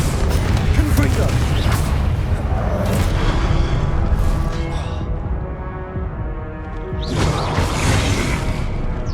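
Confringo blasting spell in Hogwarts Legacy, heard as dense, loud booming game combat with repeated blasts and rumbling bursts over about nine seconds, mixed with spell effects and a busy continuous background.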